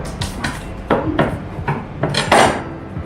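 Two large garlic cloves are bashed to loosen their skins, giving a series of sharp, close knocks and crushing thuds in an irregular rhythm, with a few scraping rubs between the blows and no talking.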